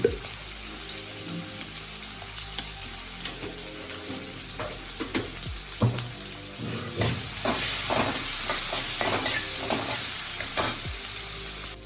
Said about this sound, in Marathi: कांदा आणि मिरची हे पण फ्राय करायचं तेलामध्ये जरा परतून घ्यायचं